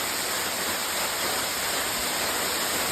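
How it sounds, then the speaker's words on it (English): Dense, steady roar of New York floodwater pouring down continuously into a basement like a waterfall, loud and close, with no voices. "Down in the basement, we have a waterfall."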